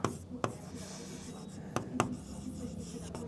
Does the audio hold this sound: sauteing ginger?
no